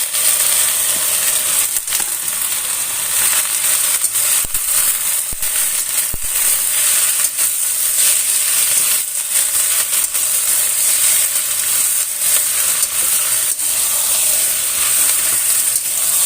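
Mustard greens sizzle steadily in a hot pan with egg while a simple clear vegetable soup is cooked, a loud continuous hiss and frying crackle with occasional stirring clicks and no talk.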